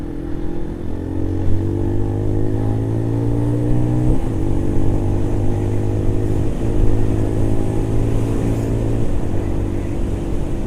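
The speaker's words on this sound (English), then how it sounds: "That truck must be super heavy. It's going slow as fuck." A heavy truck crawls past slowly with a steady, loud low engine drone and sustained tonal rumble, holding close and continuous throughout with small gear-like shifts and no voices.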